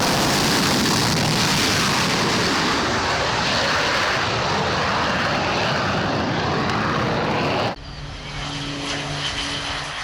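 An FA-50 light attack jet flies past with a loud, broad engine roar that holds steady. Near the end the roar cuts abruptly to a quieter hum. No voices are heard.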